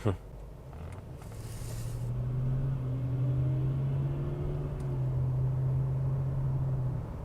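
A Lexus LS 430 Ultra Luxury cruising on a road, its drivetrain giving a quiet, steady low hum with faint tonal whine and road rumble, continuous and close from inside the cabin, with a brief knock at the start.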